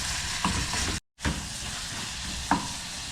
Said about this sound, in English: Now we are frying